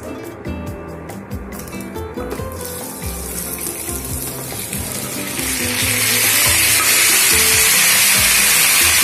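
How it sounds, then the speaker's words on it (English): Fried vegetables tumble into hot spices in a pan for a Bengali shukto, setting off a loud, steady sizzle that swells and grows brighter partway through, close up with no talking. "The spices are nicely fried. At this point I'll put the fried veggies."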